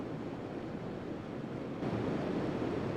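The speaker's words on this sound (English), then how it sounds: "the splashes of the waterfall softly hit us" Soft, steady splashing of a waterfall in the video game Café Enchanté, a continuous wash of noise that swells slightly partway through, calm and even, with no voices.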